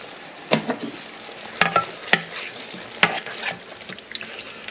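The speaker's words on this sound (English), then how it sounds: "Now let's just stir it up." Veggie korma being stirred in a pan: a steady low sizzle with several sharp scrapes and clinks of the spoon against the pan at irregular intervals, close and fairly loud, with no voices.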